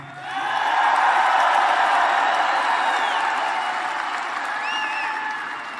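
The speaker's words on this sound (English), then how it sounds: "you clap if you want that" A rally crowd in Toledo, Ohio bursts into applause, swelling quickly into dense sustained clapping with scattered whistles and cheers, heard from within the audience.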